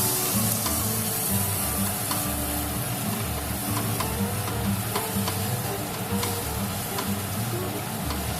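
Ground coriander, cumin, Kashmiri and red chilli powder frying in oil in a pan for a fish-head muri ghonto, giving a dense, steady close-up sizzle with faint ticking stirs throughout.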